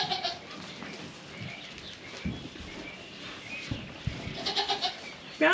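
Goats on a small farm, with faint, brief bleats and rustling heard quietly and at some distance, amid light background noise and a few soft bird-like calls.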